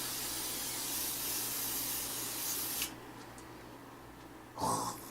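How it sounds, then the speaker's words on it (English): A steady aerosol hiss sprays continuously for a few seconds, stops, then a short second burst follows. "Alright, so you need to take the hairspray."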